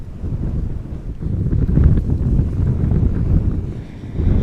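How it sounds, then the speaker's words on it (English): Strong gusting crosswind buffets a handheld camera outdoors at Amsterdam Schiphol Airport, a continuous loud low rumble swelling and easing in waves over the few seconds, with no voices. "The wind is constantly trying to move the camera in a different direction than what I am trying to"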